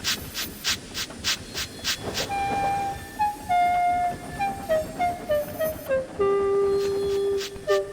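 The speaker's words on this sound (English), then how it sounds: "Trainz honked his horn as a "You're welcome" response" Train horn sounding in a train story, long sustained tonal blasts shifting pitch after a stretch of rhythmic chuffing, loud and close with hissing underneath, no talking.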